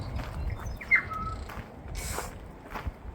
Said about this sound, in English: something is making some crazy noises up here. Some bird, I can't see him though.